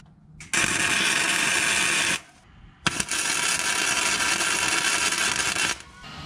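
A gusset is tack welded onto an A-arm bracket: two loud, steady crackling buzzes, about two and three seconds long, with a short quiet gap between them.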